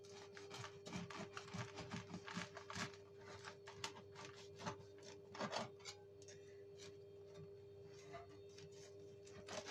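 A knife saws through freshly baked pot bread, a series of close, rough rasping strokes in quick bursts over a faint steady hum, thinning out toward the end.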